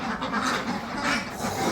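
Ducks on a small duck farm quack steadily and fairly close, several birds overlapping in a continuous nasal chatter with no talking.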